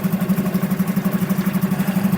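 A Suzuki 6HP four-stroke outboard boat engine idles steadily up close, a loud even low putter with a regular pulsing rhythm throughout.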